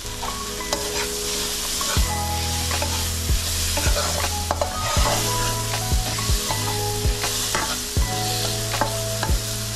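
Curry leaves and green chillies sizzle steadily in hot oil for Bengali tomato masoor dal, with repeated spoon scrapes and knocks against the pan as they are stirred, close and clear, with no talking.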